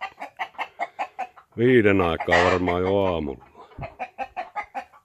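A rooster crows loudly and close by, framed by steady rhythmic clucking before and after, with a person talking briefly.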